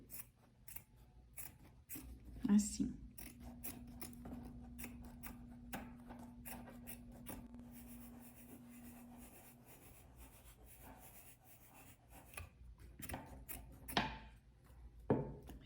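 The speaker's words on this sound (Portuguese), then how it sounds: "vai vir com a tesoura para recortar somente ele" Scissors snip through a single layer of fabric during an embroidery and watercolor-on-fabric workshop, giving close, crisp repeated cuts with a brief soft remark at the start and a low steady hum underneath.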